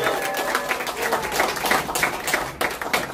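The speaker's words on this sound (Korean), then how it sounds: "손박수 부탁드립니다." An audience claps steadily to welcome a missionary at a church youth service, a dense stretch of hand applause lasting about three seconds, with a few voices mixed in.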